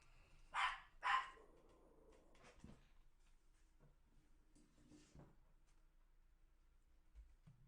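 A dog barks twice in quick succession near the front door of a home, two sharp, fairly loud barks early on, followed by quiet room noise and a few faint thumps.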